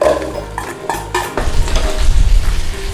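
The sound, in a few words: stirring garlic and onions frying in oil in a pan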